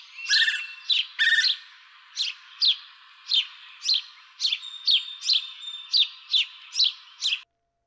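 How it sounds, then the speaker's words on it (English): House sparrows call near human habitation around an outdoor eating area, giving a series of about a dozen sharp, loud chirps in a steady rhythm, with a few doubled notes at the start, close by and with no talking. "House sparrows are urban birds, nesting and foraging near human habitation."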